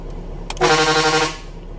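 A single short vehicle horn blast from a big horn, loud and close, with a brief higher toot from a whistle horn just before it, then fading out.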